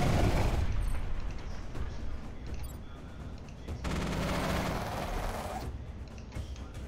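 Missile pods firing in the mech strategy game Mech Armada: dense, continuous volleys of rapid mechanical bursts and booms layered with game effects, loud and sustained with surges in intensity.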